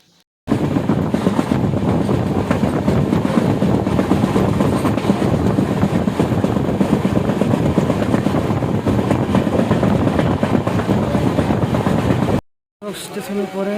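Dhauli Express passenger train on the Puri to Medinipur line, running on rails with a loud, steady rumble and rattle heard from inside the carriage, cutting off abruptly near the end.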